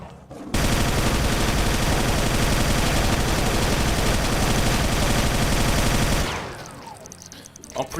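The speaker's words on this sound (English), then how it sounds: "pretend I'm grouse shooting with this gun" Gun firing in the factory-building video game Factorio. A loud, continuous burst of rapid shots lasts about six seconds before cutting off abruptly.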